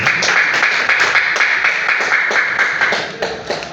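Audience at a Nepali DXN company gathering gives a loud, sustained round of applause, dense steady clapping filling the whole stretch.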